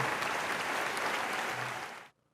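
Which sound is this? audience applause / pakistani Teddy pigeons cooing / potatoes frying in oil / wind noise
audience applause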